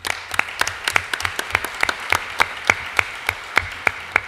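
An audience at a round-table law, politics and defense conference applauds a speaker's introduction, with steady, fairly loud clapping that shows distinct louder individual claps in a regular rhythm throughout.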